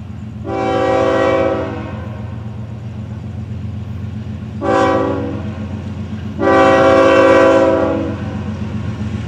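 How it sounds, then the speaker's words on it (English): A Florida East Coast Railway train horn sounds three loud blasts, long, short, then long, over the steady heavy rumble of a passing 668-axle train. "This train with 668 axles today."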